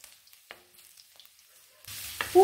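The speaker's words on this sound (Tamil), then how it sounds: "கடுகு நல்லா பொரிஞ்சதும் கட் பண்ணி எடுத்து வச்சிருக்கிற பூண்டு" Mustard seeds crackle in hot oil in a kadai, scattered quiet pops at first, then a sudden louder sizzle as cut garlic goes in, with a stir near the end.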